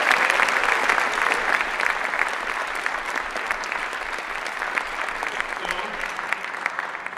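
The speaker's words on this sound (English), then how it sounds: "So let's give a little round of applause to him." An audience claps together in steady, dense applause at a presentation event, sustained and fairly loud for about seven seconds with no break.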